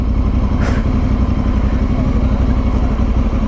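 Motorcycle riding along a road through mountain country, a loud, steady engine drone with heavy wind rumble, constant and close throughout, no pauses.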